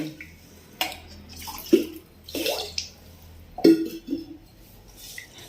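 Water is poured from a small metal vessel into a cooking pot for amchur tamarind rice, splashing in a few separate pours with light metallic clinks between them, close up in a quiet kitchen.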